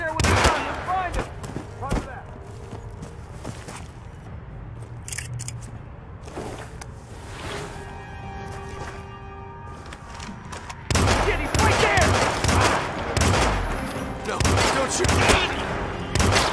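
Sharp volleys of video game gunfire crack in scattered bursts, then grow into a louder, denser exchange toward the end.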